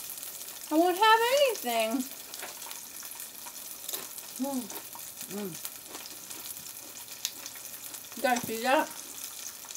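Onion rings and pickles deep frying in grease give off a steady soft sizzle and crackle, faint beneath someone speaking at intervals.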